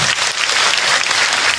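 Steady, dense applause from an audience at a religious lecture for a woman who asked a question, loud and continuous throughout with no voices over it.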